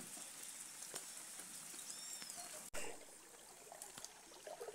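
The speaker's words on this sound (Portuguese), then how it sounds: "Olha aí, pessoal, como está o riozinho que eu falei para vocês." A small stream swollen after heavy rain trickles and babbles steadily, quiet and close, with a brief knock partway through and no talking.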